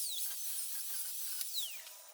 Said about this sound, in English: I think I'll come in with the angle grinder, try to cut that without getting into the wheel